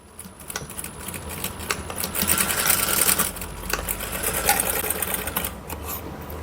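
A sewing machine stitches a blouse seam, a rapid close mechanical whirring and needle clatter that runs steadily and swells slightly in the middle, with no voice over it.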